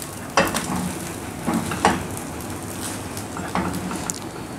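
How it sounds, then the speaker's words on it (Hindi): An egg paratha fries in a pan over a medium flame, sizzling steadily with a few sharper crackles and stirring scrapes, close and without any talk. "बस मीडियम फ्लेम पर हमने इसको सेक लेना है"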